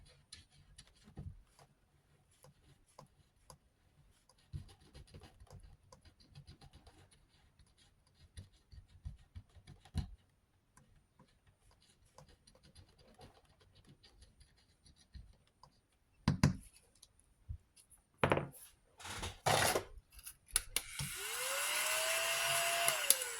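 Scratch-off card scratched with rapid, dry scraping bursts near the end, alongside faint rustling and small handling ticks earlier; close and fairly quiet, with no one talking.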